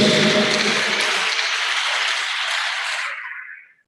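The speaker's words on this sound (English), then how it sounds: "I think you deserve a round of applause" Audience applause at a university matriculation ceremony in Nigeria, a broad, steady burst of clapping from a large crowd that holds evenly, then fades out quickly near the end.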